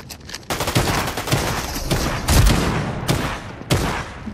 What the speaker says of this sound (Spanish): Un tiro acá.